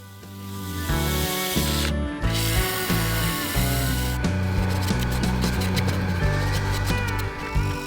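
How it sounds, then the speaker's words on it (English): Wooden honey pot rim being sanded on a lathe, a steady spinning drone with a strong hum and a continuous rubbing hiss of sandpaper on wood throughout. "I finished sanding just the rim from 80 to 600 grit"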